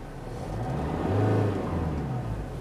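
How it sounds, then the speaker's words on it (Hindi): Engine of a 2015 Hyundai Verna SX(O) heard from inside the cabin, a low, steady hum with a gentle rise and fall in revs, fairly quiet and smooth with no talk. "हम आपको इंजन की नॉइज दिखाते हैं केबिन में कितना आता है।"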